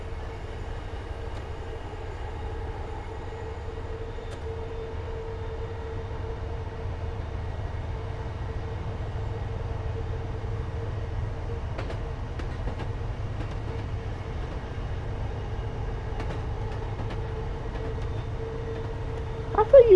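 A train runs steadily in Train Sim World 5, with a low continuous engine rumble, a sustained tonal hum and a few faint rail clicks near the end.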